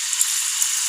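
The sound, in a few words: peas frying in a pan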